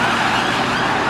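A loud, continuous siren wail from a passing police vehicle near a Japanese car meet in Reading, close and steady over road noise.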